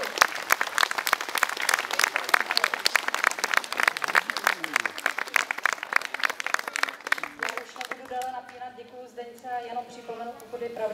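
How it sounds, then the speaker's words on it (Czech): Audience applause at a Czech family singing event, dense clapping filling the first eight seconds before a voice takes over the rest. "Potlesk, myslím, zase."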